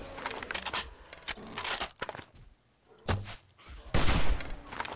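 Gunshots fired at an enemy in a video game come as several sharp, loud broadband cracks spread across a few seconds, with a quiet gap in the middle and one heavier blast near the end.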